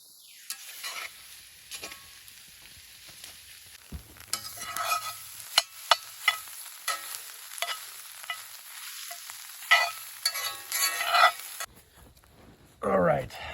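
Eggs dumped into a skillet at a solo overnight hammock camp, frying with a steady hiss and crackle while a utensil scrapes and stirs in bursts, a quiet voice speaking at times.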